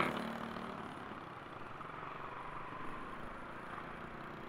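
Motorcycles idle in heavy traffic on C5 in Taguig, a faint, steady low engine drone with a constant street rumble and no clear voices.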